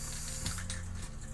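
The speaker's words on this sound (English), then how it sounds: "let's hit it with some matte spray." A can of matte fixative sprays onto a pencil drawing of a toy fire truck with a steady, loud hiss that fills the whole short stretch, alone at close range.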